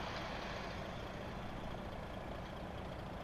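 A DAF 105 XF truck engine runs steadily at close range, a continuous low rumble that holds even and unbroken throughout, with no voices.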